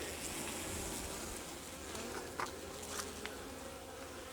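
Honey bees in an alpine hive, clustered in the boxes for winter, make a soft, steady buzzing hum at close range, with a few brief louder buzzes as individual bees pass near, and no voices.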